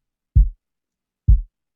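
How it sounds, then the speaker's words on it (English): Two soft, subby kick drum hits from a Splice SSTS Kick One Shot Classic sample, deep and round with almost no high end, evenly spaced about a second apart in silence. "For this track I wanted a really soft, subby kick with a lot of low end"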